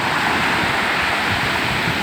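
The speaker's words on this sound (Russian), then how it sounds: "Какая волна большая" Large sea waves crash on the shore where a river flows into the sea, a close, loud, unbroken roar of churning surf with wind buffeting the microphone.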